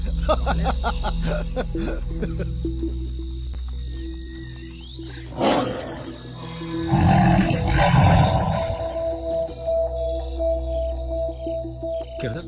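A tiger gives a loud, rumbling roar that builds around the midpoint and swells into a sustained growl over background film music.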